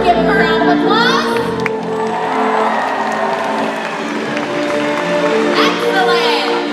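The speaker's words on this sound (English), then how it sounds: "let's give him a round of applause." A large crowd cheers, whoops and claps in a stadium at a SeaWorld Orlando orca show, with children shouting, a continuous swell of noise mixed with loudspeaker talk and music.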